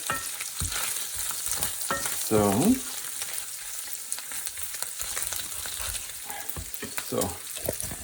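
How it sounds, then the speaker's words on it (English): Bacon browning in a pan with its fat rendering crackles and sizzles steadily up close, with utensil scrapes and stirring strokes and a brief louder burst partway through. "my bacon is nicely browning. So, and the fat is rendering out."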